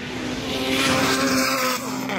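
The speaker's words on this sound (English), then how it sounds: "I can hear his car though." During a drag race between a Nissan S15 Silvia and a BMW M3 Competition, a car engine revs hard under acceleration, giving a loud, steady, strained drone whose pitch holds high before easing off.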